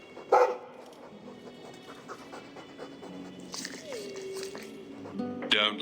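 A Mabari war dog pants in Dragon Age 2, short breathy bursts near the start and end over game ambience, with speech-like voices murmuring in the background.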